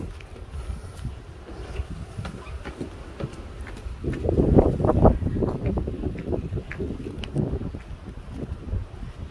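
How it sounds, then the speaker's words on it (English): Wind gusts buffet the microphone outdoors at a home on Kauai's west side, a low rumbling roar that swells into a stronger burst midway and then eases back off. "So it's gonna get windy now."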